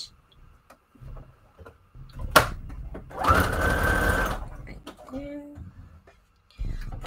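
A sewing machine running a straight stitch, one steady whirring burst of about a second amid brief clicks and handling noises, close and fairly loud.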